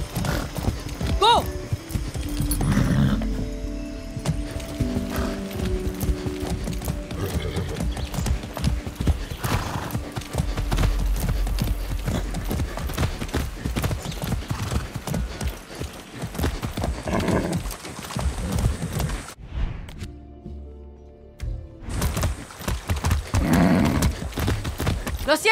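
A horse gallops in the Far Cry 6 video game, hooves drumming fast and close, with occasional whinnies, game music and characters' voices talking over the steady clatter.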